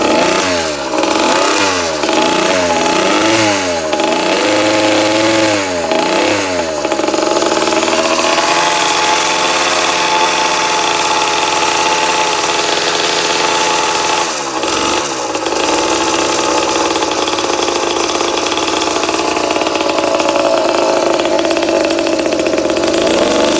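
A motorized bicycle engine sputters and catches after several quick pull attempts, then settles into a steady, loud, close two-stroke running drone with slight rise and fall, and no talk over it.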